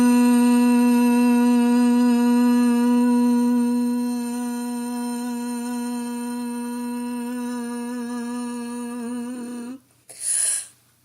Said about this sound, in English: A mantra is a sound repeated to enhance concentration during meditation.